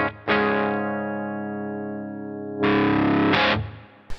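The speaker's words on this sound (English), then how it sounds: "So I'll check out some tones on the modern mode." Electric guitar through a Boss FZ-1W fuzz pedal in modern mode, a thick distorted chord ringing out and sustaining, then a second loud fuzzy chord struck and cut short.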